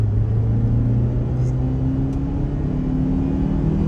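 A 2022 Ford Ranger XLT pickup accelerates at half throttle, its engine a steady rising hum with road rumble heard from inside the cabin, continuous and fairly loud.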